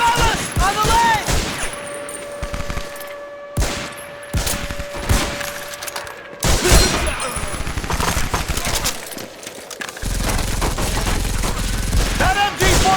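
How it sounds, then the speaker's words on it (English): MG-42 machine gun fire in a war video game, loud sustained bursts of automatic gunfire with other shots and battle noise, and shouted voices over it. "That MG-42's blocking our way!"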